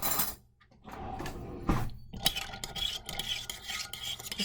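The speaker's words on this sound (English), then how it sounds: "we're going to use a spoon to stir it around." A spoon stirs macaroni and water inside a mug, scraping and clinking against the sides in a steady, close, irregular rhythm.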